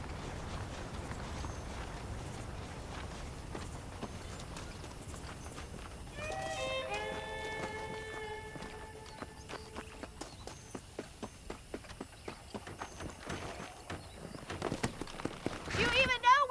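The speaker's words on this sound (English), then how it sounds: "The horses are saddled up over here." A saddled horse in the Western video game Red Dead Redemption clip-clops at a walk, hoofbeats starting sparse and quickening into a steady rhythm, with a musical swell midway and faint ambience underneath.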